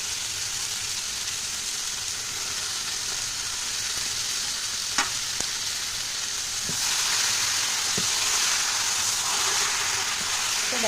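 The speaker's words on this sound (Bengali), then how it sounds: "তো দেখো একটু ভালো করে আমি নাড়িয়ে দিচ্ছি" Fish frying in a pan hisses in a broad, continuous sizzle that swells louder partway through, with a few light utensil knocks as the pieces get stirred, close up and with no talking.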